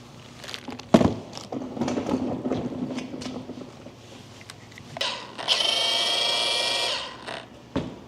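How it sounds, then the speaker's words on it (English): Milwaukee rotary polisher with a waffle pad working car paint in a one-step enhancement: scattered knocks and handling clatter, then a sustained whirring spin-up that holds steady for about two seconds before winding down, fairly close. "Combine that with my Milwaukee rotary polisher with a waffle pad on it."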